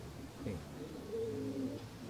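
Pigeons cooing in a pigeon loft, soft low coos rising and falling for a couple of seconds over a steady room rumble, fairly faint and close.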